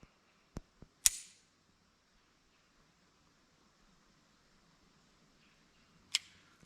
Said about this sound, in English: that could potentially be why that clicked like that. Very light primer strike.